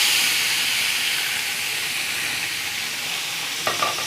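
Minced meat sizzles and fries in a pan with light-browned garlic, a steady close hiss throughout, with a couple of brief stirring clatters near the end.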